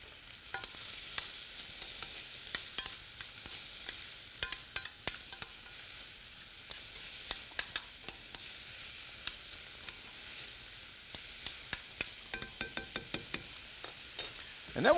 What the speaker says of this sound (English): we're going to saute them for a couple of minutes because they've already been blanched